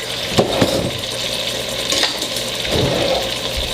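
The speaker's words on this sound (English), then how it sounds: "we're just going to slide our onion right off into this and let that cook." Onion frying in a pan with meat for cheeseburger soup gives a steady, close sizzle, with a few soft stirring scrapes and knocks against the pan.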